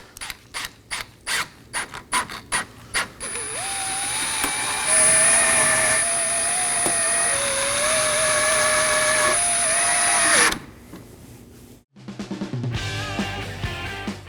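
A power tool drives T15 Torx screws into the lower active grille shutter in a 2018–2024 Chevrolet Equinox engine bay: quick ratcheting bursts, then a long whirring run with a high whine, then a stop and more short ratcheting.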